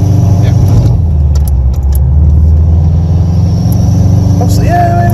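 A 2005 Subaru WRX cruises along a curving country road, with continuous close engine and road rumble and a faint rattle inside the cabin. A brief voice cuts in near the end.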